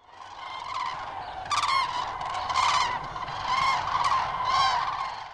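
A flock of common cranes wintering in the Landes de Gascogne calls continuously, layered trumpeting bugles overlapping and swelling in loud bursts, several birds at once, with no other sounds intruding.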